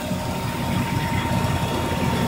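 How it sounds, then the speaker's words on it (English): A garage exhaust extractor fan drawing car exhaust through a single impeller into a dryer hose, steady low droning hum with a faint whine, constant and unvarying. "it's pulling the exhaust through the single impeller and going out through this dryer hose that's connected to the outside of the building"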